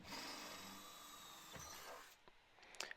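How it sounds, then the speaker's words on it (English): A power drill bores through the underside of a Honda CR-V chassis arm while a tow bar is fitted. A steady high whine holds for about two seconds, then cuts off and is followed by a couple of small clicks. "what you need to do is drill through the bottom of that arm"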